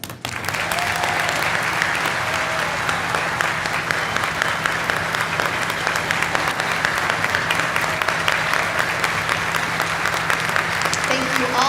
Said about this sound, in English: give them all a round of applause for their service